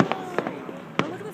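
Fireworks show in Anaheim exploding in a few sharp, irregular bangs at moderate distance, with crowd voices talking underneath.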